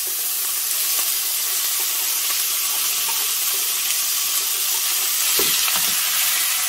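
Diced chicken breast, red pepper and onion fry together in a pan, giving a loud, dense, continuous sizzle with a few faint stirring knocks and no talk.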